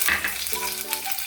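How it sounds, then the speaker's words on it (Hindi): Green chillies sizzling as they drop into a hot pan for an egg and pea dish, a short loud close hiss with a few light clatters, no talking. "पहले हम हरी मिर्च डालेंगे"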